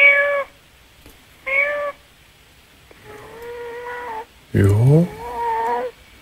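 A man imitates a cat, producing several separate meows: two short ones, then a longer drawn-out meow and a final wavering caterwaul, close and clear in a quiet studio setting, with a brief spoken word in between.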